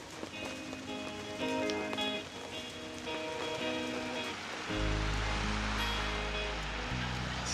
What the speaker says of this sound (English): It's raining today, but coincidentally we're all indoors today.